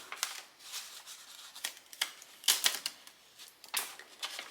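Sublimation paper is peeled off a heat-pressed Koala name badge after pressing under butcher paper, a run of close, quiet crinkling and tearing rasps in several short bursts.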